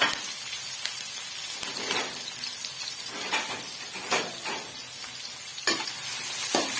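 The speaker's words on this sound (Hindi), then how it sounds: "घी हो गया गरम, हम इस पे डालेंगे प्याज।" Onions frying in hot ghee for a kofta curry, a steady loud sizzle with intermittent stirring scrapes and bursts of spatter, close up and with no talking.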